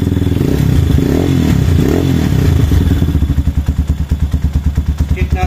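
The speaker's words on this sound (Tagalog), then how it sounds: "pinandar natin yung makina" A Yamaha STX 125 motorcycle engine fitted with a new fuel cock and filter starts and settles into a loud, close idle. It carries a steady low rumble and a rapid, even clatter of exhaust pulses.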